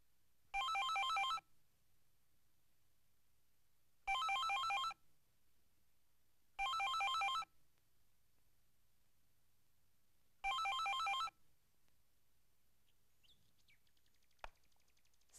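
A telephone rings four times in separate electronic bursts spaced a few seconds apart, with quiet gaps between and no answer, in a still indoor setting.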